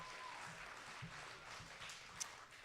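Scattered applause from a spelling bee audience after a contestant spells a word correctly, a steady, moderately quiet patter of clapping that continues evenly without talk.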